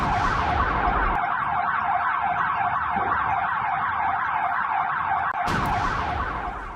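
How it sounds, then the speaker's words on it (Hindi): Sirens wailing in Kyiv after a missile strike, a loud continuous rising-and-falling emergency tone that holds steady for several seconds, with a brief change in the background near the end. "सायरन की आवाज आप सुन सकते हैं"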